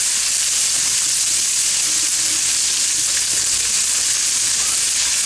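Spam and sweet corn stir-fry in a pan with a loud, continuous sizzle and crackle close to the microphone, steady throughout with no voices.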